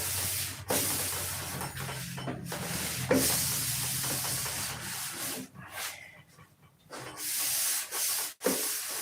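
Steady abrasive rubbing of sanding fills most of the stretch, a close hissing scrape that drops away in short gaps and resumes near the end.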